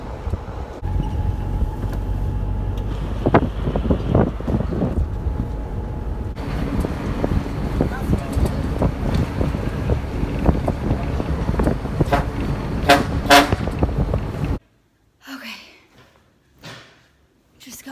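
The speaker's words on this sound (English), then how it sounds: "Wind blowing in my face, got my headphones in, now it's a good ride." Strong wind roars across the microphone during a ride on a trek through northern Laos, with gusty low rumbling and buffeting that continue steadily before cutting out near the end.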